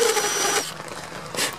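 A power drill boring a small countersink hole while fitting a shaped plexiglass race car windshield, a brief whirring burst that drops off, then a second short whir, close and fairly quiet.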